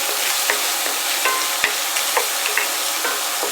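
Chopped bacon pieces fry in a hot pan on a stovetop set to medium high, giving a steady close sizzle with small pops and occasional stirring scrapes, with no voices.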